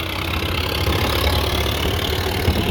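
A Sonalika tractor engine idles with a low, steady chugging rumble, continuous and fairly close, with no voices.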